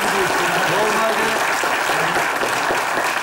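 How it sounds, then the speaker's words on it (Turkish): A TV show studio audience applauds with dense, steady clapping that fills the whole stretch, while a presenter's voice talks over it. "Devam ediyor alkışlarınızla"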